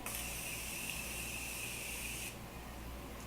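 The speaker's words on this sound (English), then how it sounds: "I'm going to go in with this Morphe Continuous Setting Spray" A Morphe Continuous Setting Spray mists in one long, close, steady hiss lasting a couple of seconds, then cuts off, leaving quiet room tone.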